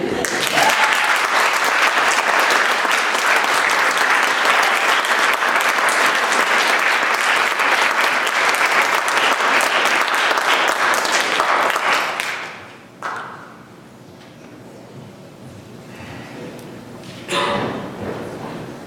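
A full room of audience applause at a talk event stays loud and dense for about twelve seconds, then stops abruptly, leaving quiet room sound with a brief later swell.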